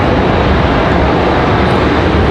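A Delta airliner arriving from Detroit roars loudly and continuously nearby, a dense, unbroken engine rumble.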